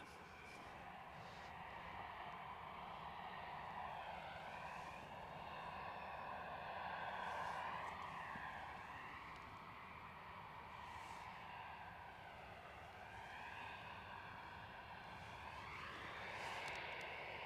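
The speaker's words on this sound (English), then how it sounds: "So the aircraft on camera is an EasyJet A320 off to Paris" An EasyJet Airbus A320 at Edinburgh Airport, its engines producing a steady, fairly distant roar with slowly shifting tones that swells and fades gently throughout.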